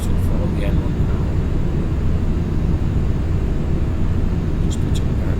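Aircraft engines in a cockpit as the throttle is pushed up, a dense, loud, steady low rumble filling the space, with someone talking over it.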